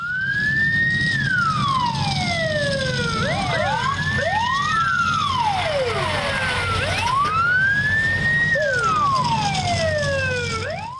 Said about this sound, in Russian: Звуки сирены ознаменовали начало совместных учений